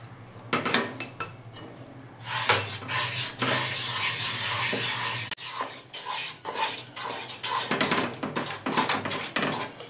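Milk powder is stirred in a pan for Bengali sandesh, with a spoon scraping and clinking repeatedly against the metal in quick irregular bursts, close and fairly loud, with a faint sizzle underneath.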